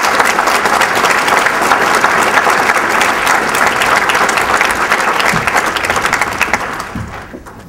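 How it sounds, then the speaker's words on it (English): A crowd at an evening speaking event applauds to welcome the Ugandan Director of Operations, sustained loud clapping that fills the room without a break and tapers off near the end. "welcome Paul with a warm round of applause"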